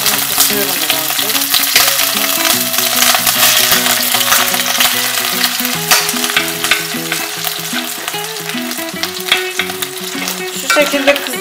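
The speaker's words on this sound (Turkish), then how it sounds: "Şu şekilde karideslerimi karıştırıp kızartacağım." Shrimp sizzling loudly in a hot pan while being stirred for pasta, with scraping and clattering over a steady frying hiss and faint music underneath.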